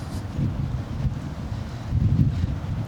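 Strong wind from a Scottish storm buffets the microphone around a campervan at a coastal stopover, a continuous low rumble with gusts that swell louder near the end, no voices present.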